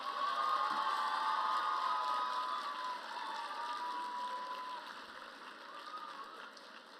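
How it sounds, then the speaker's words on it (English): A conference audience applauds in a large room, a moderate, fairly distant clatter of clapping that slowly fades, with faint voices mixed in. "Give yourselves a round of applause."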